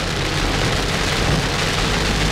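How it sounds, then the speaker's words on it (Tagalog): Heavy rain falls in La Union the day after a typhoon, a loud, dense, unbroken hiss of drops hitting surfaces, constant throughout with no voices. "malakas yung ulan eh"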